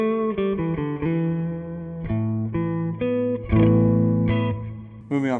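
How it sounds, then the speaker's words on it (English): Electric guitar through the room reverb setting of an M-Vave Blackbox multi-effects unit, a run of sustained chords and picked notes rings close and loud, each change trailing a short ambient tail, with no talking. "we've got a room reverb."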